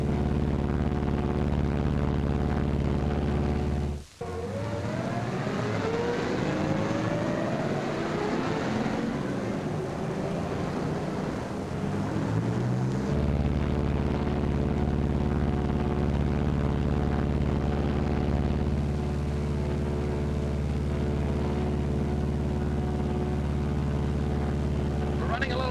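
A B-26 bomber flying on a single engine at 4,000 feet makes a continuous loud engine drone that dips abruptly and then resumes, with rising and falling tones in the middle stretch.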